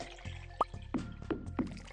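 Watering crops in Stardew Valley: a game sound effect of cartoonish water splashes and drips, repeating in a quick, even rhythm of about five bursts over a steady background tune.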